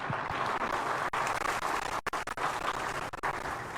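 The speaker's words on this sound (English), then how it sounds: "Please, one more time, a round of applause." Audience applause at a ceremony in Ghana, a short burst of dense, steady clapping of moderate loudness with a few brief dips.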